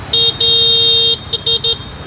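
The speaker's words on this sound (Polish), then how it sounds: "klakson!" Several loud, close car horn honks in Vietnamese street traffic: two long blasts followed by three short toots, each clear against a low background of engine rumble.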